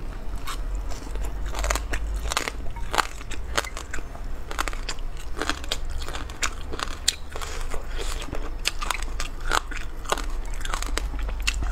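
Loud, close crunching bites and chewing on a crunchy, very spicy vegetable root, repeated sharp crackly crunches in a steady rhythm throughout with no talking.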